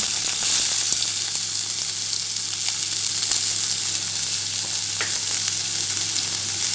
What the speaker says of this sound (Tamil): வெங்காயம் போட்டு நல்லா வதக்கலாம்